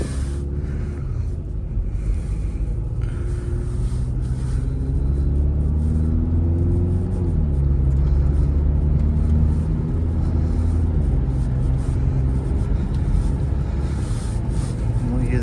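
A Volkswagen Tiguan on summer tyres drives along an icy winter road, its engine a steady low rumble with a gentle rise and fall in pitch as it accelerates, heard from inside the cabin.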